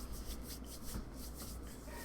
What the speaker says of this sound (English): That was my keyboard being pulled across a glass desk.